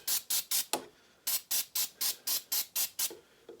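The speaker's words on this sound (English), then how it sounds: "spray it down the mechanism, the spring" Short bursts from an aerosol can of Rust Check lubricant hiss in quick succession onto a pruner's mechanism and spring, about a dozen close-up sprays with a brief pause partway through.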